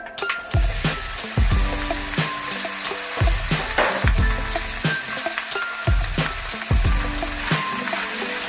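Spare rib trimmings sear in a dry cast iron Dutch oven, a steady loud sizzle broken by regular scraping stirs roughly every second, close up with no voices.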